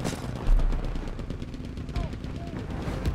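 Video game gunfire crackles in quick bursts behind a steady low rumble, moderately loud and continuous, with faint game effects mixed in.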